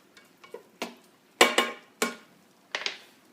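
Ground beef seasoned with black pepper and salt being stirred in a pan, heard as a series of separate scraping, clattering strokes of a utensil against the pan, with a louder cluster in the middle and no talking.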